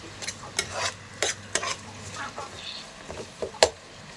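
Tomatoes are tipped into a pan and stirred, a quiet sizzle of frying broken by repeated scraping strokes of a spoon and one sharp metallic clink.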